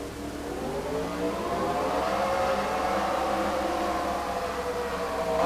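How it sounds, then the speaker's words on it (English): Race car engines starting in a NASCAR video game at Indy, a steady layered drone of many engines idling and rising together, moderately loud and continuous without speech. "Drivers, start your engines!"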